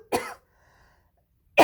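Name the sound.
coughing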